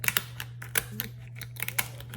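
Sharp kitchen scissors snip through a lobster tail shell in a quick series of crisp clicks and crunches, up close and fairly loud, with no talking.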